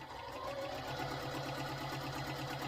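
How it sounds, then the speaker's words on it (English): A sewing machine stitching a pinned quilt block runs in a steady, even whirr with a fast mechanical pulse throughout, close up and alone with no talk. "So I will bring you guys over here to the sewing machine and both sides of the line."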